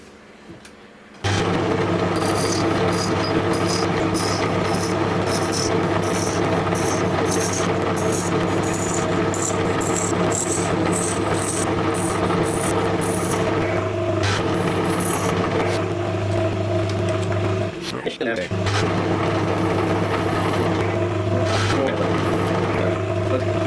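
A metal lathe runs steadily at close range while turning down a machinist's scriber, a constant motor hum with strong harmonic tones and brief cutting scrapes; it starts abruptly after a quiet moment and dips once near the end.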